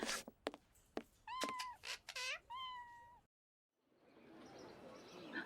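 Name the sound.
cat meowing in Sherlock Holmes vs Jack the Ripper video game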